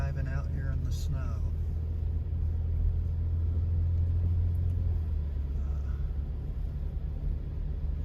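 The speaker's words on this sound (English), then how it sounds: "driving up Immigration Canyon to Ruth's Diner" A car climbs a snowy mountain canyon road in steady falling snow, its engine and tyre rumble forming a continuous low drone from start to finish, with a brief voice near the beginning.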